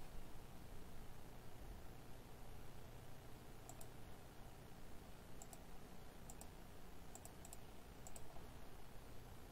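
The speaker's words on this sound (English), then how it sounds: "I heard you were clicking" Soft, scattered clicks from a computer mouse or keyboard tap out in small clusters over a faint steady hiss, quiet and close with no talking.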